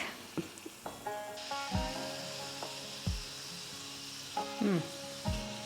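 Thin lotus root slices sizzle and fry in a pan for chips, a soft steady hiss punctuated by scraping and knocks of a utensil stirring them around.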